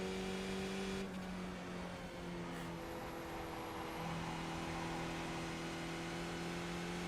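Race car engines in the iRacing sim with Skip Barber cars at Zolder, a sustained whining drone with steady tonal engine notes that shift pitch slightly, continuous and fairly loud without talk.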